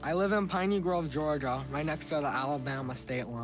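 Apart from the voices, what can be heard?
No everyday noises stand out.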